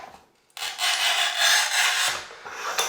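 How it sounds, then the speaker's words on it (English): A tile cutter scores a ceramic tile in a master bathroom in one steady, harsh scraping stroke lasting about two seconds. A short rasp follows at the end. The sound is close and loud, with no talking. "So I just scored the tile"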